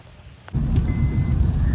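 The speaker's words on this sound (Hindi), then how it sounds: "बहुत ज़्यादा बारिश भी हो रही" Heavy rain pours steadily over an open farm field, a dense, loud broadband hiss that starts abruptly and continues without a break.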